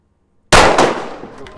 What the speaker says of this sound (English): Every time you guys heard those gunshots, that could theoretically be somebody getting shot.